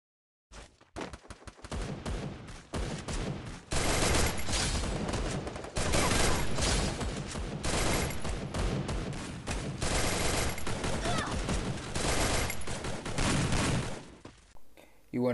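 Gunfire in the Free Fire video game during player-versus-player combat: loud, dense volleys and rapid automatic bursts that run almost without pause for most of the stretch, with brief gaps between salvos.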